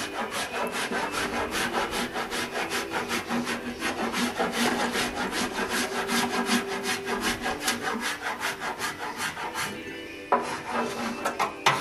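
Body filler on a Fiat Spider panel is worked by hand with a file, giving a steady run of quick rasping strokes close up that carry on through nearly the whole stretch, with a short break near the end.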